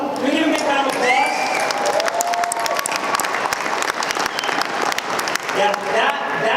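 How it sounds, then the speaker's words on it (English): An audience breaks into sustained applause, dense clapping from a large crowd filling the room throughout, with voices talking over it. "Can we give him a big round of applause?"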